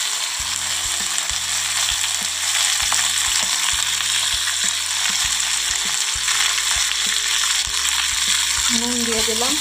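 Prawns fry in hot oil with panch phoron, two dried red chillies and salt, stirred steadily for a Bengali pumpkin and pui shak ghonto; a dense, close sizzle runs throughout with occasional scrapes and clicks.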